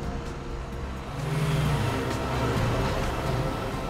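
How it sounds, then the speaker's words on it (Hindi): Car engine droning steadily at moderate distance during a chase on a road leading out of Goa, with a low hum that swells slightly as the vehicle moves, no talk over it. "सर वो देखिए सुनहरी गाड़ी"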